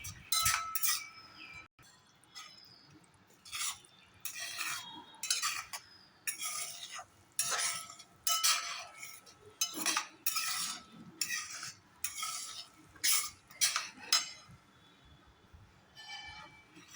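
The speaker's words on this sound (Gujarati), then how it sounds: "આ રીતે આપણે સતત હલાવતા રહેવાનું છે" A metal spoon scrapes and clinks against a heavy-bottomed pot while semolina halwa cooking in milk is stirred continuously, giving a steady series of short scraping strokes at a gentle, even rhythm.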